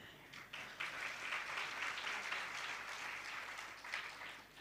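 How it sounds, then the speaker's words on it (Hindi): An audience claps at a Teacher's Day talk, a steady, dense round of applause that is faint and distant and runs without pause, swelling slightly after the first half second. "हम लोग तो प्रसन्न होके केवल ताली पीट रहे"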